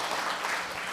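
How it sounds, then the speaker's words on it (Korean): Seminar audience clapping after a presentation: a brief, steady wash of many hands applauding together at moderate level, with no voices over it. "박수 좀 부탁드리겠습니다."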